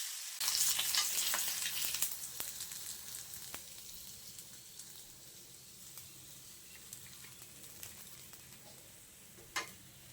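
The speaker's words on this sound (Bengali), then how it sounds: "মাছগুলো উল্টে পাল্টে খুব ভালোভাবে ভেজে নিয়েছি এখন তুলে নিচ্ছি" Catla fish pieces fry in oil with a loud, hissing sizzle at first. It eases to a quieter crackle with scattered sharp ticks and pops, close by and without speech.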